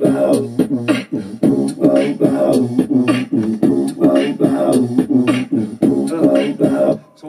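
A single voice performs a beatbox groove, imitating a kick, snare and hi-hat in a steady repeating rhythm of punchy mouth percussion, close and alone, with no speech.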